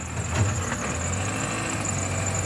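A MINI One, stuck in reverse with a suspected gearbox or clutch fault, runs with a steady low engine hum and a faint high whine, close by and unbroken.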